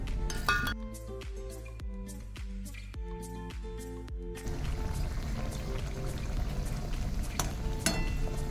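Eggplant fritters (beguni) cooking: a run of sharp clinks and taps first, then a steady hiss of frying in hot oil that fills the rest of the stretch, close and moderately loud.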